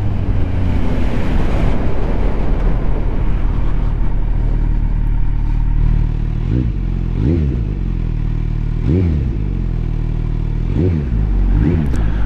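A Kawasaki Z900 motorcycle fitted with a LeoVince slip-on exhaust idles loudly and steadily up close, with several short throttle blips rising and falling in its second half.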